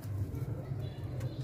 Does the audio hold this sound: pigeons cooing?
yes